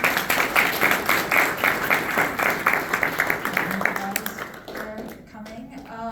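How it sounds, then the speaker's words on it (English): Applause from the audience at the close of a university panel discussion: dense, steady clapping for about four seconds that thins out as a voice begins speaking over the tail end. "Can we get a round of applause for"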